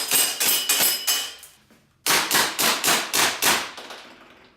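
A Glock 17 airsoft pistol fires in a garage: two quick strings of sharp, snappy cracks, about five shots each with a short pause between, each shot ringing briefly off the walls.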